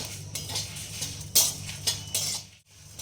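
Spices frying in a pan on a low flame while a utensil stirs and scrapes, giving light clinks and metallic scrapes over a soft sizzle, close and moderately quiet.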